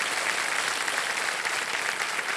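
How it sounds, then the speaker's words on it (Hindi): A studio audience on the KBC quiz show set applauds steadily as a contestant takes the hot seat, a dense, even wash of clapping with no one speaking over it. "तालियों के साथ इनका स्वागत किया जाए।"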